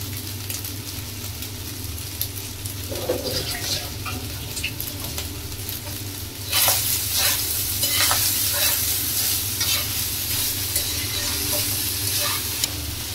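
Leftover stale rice fries in a salted pan, a steady sizzle running throughout while a spoon scrapes and stirs it in repeated strokes that grow louder and busier in the second half.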